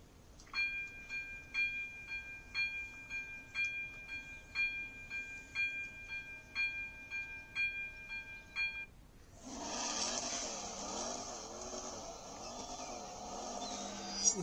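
Rhythmic beeping clatter, likely a level crossing signal, repeats for several seconds, then gives way to a steady rumbling roar of a train passing along the tracks in the Czech Republic, moderately distant.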